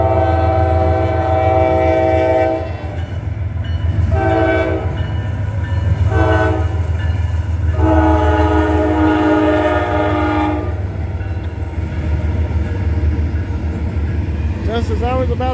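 A CSX I-137 westbound single-stack intermodal freight train passes at Brunswick with a steady, loud rumble of rolling cars, broken by several long horn blasts in between.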